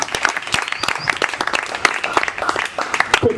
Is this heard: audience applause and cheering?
yes